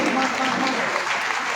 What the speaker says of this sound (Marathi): एकदा जोरदार सगळ्याच मान्यवरांसाठी टाळ्या वाजवूयात आपण।